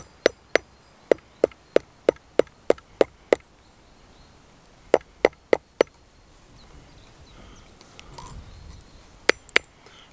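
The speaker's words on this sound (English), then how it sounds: "And then I used this hammer, a ball hammer, to make these markings." A ball hammer strikes metal while cold forging markings into Viking-style jewelry, producing sharp, bright, evenly spaced taps in quick runs, with a short pause and some faint handling noise between groups.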